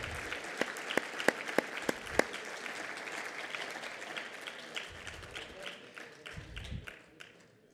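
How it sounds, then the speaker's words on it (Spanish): A small audience at a panel on human factors in freight-vehicle driving claps for a participant. Sharp, scattered claps come first, then fade into a softer, thinning patter at a quiet distance. "A ellos les pido, les demos un aplauso por su participación"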